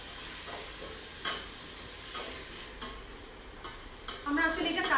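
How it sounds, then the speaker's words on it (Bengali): Small cubes of chicken frying in a pan for a homemade chicken vegetable soup, giving a steady broadband sizzle broken by a few sharp clicks of stirring, close and moderately loud, with no talk. "ভালো করে এটা একটু ভেজে নিতে হবে"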